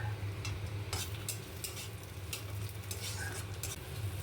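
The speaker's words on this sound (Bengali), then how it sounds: "এরপরে আমি কুচি করে কাটা পেঁয়াজগুলো দিয়ে ভালো করে ভেজে নিচ্ছি।" Chopped onions fry with tomato in a pan for a Bengali macher jhal fish curry, giving a faint, steady sizzle with a few soft stirring scrapes and clinks and no clear talk.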